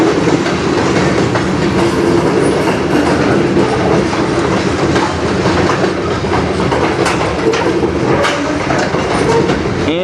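CN freight train of tank cars passing in Sarnia: continuous close, loud rumble with rhythmic clickety-clack of wheels over rail joints throughout.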